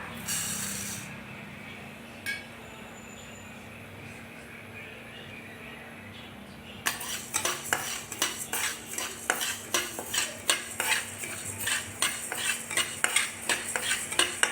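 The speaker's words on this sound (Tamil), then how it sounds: "இப்படி ஒவ்வொன்றா தனித்தனியாக நல்லா வறுத்து எடுத்துக்கோங்க" Spoon stirring and scraping pearl millet and other grains being dry-roasted in a pan, a quiet hiss at first, then a rapid, steady run of close metallic scrapes.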